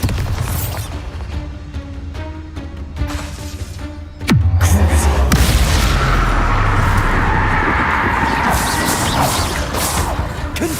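A Bombarda exploding spell in the video game Hogwarts Legacy, one sudden loud crash partway through followed by a sustained roaring rumble and debris noise, with earlier game sounds beforehand.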